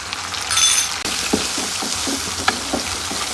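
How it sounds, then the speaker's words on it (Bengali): Water poured into beef frying with spices in a very hot pan sets off a loud, sustained hiss and sizzle, with a few sharp clinks of a utensil against the pan. "এখন এর মধ্যে পানি অ্যাড করে দেবো।"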